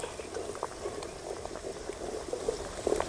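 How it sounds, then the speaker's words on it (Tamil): Sugar syrup boiling steadily, a soft continuous simmer with small pops and bursts, close by and without speech. "பாவு நல்லா கொதிக்கிட்டு"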